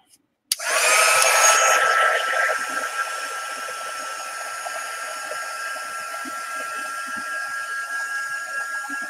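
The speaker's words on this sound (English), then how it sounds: "My other heat gun finally gave out, so I had to bring out my other new one, and hopefully it quiets down." A heat gun switches on and blows hot air steadily and loudly while softening the paint on a wooden paint palette, a bright whine rising at the start and then holding as an even rushing hiss.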